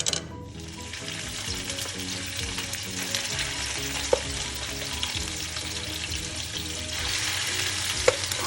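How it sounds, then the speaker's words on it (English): Blended onion, pepper and ginger sautéing in hot olive oil for a meat pie sauce, a steady close sizzle and crackle with occasional stirring scrapes and a couple of sharp clinks, no talking. "I'm just gonna saute this one in the olive oil so that the vegetables too can cook"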